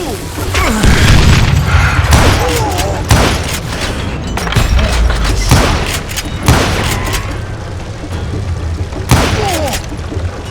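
Loud, heavy gunshots from Call of Juarez Gunslinger boom one after another in an irregular volley, with crashing impacts and speech woven in among the blasts.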